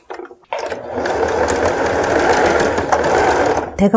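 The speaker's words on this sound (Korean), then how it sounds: "이제 박음질을 시작하는데 박음질 할 때는 소매가 위로 놓고 박아야 합니다" A sewing machine stitches a blouse sleeve in one steady, loud whirring run of about three seconds, starting abruptly after a brief pause and stopping near the end with a few handling clicks.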